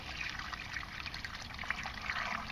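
Water runs out of a pipe in a steady, fairly quiet trickling flow that never lets up, with some splashing and dribbling mixed into the stream.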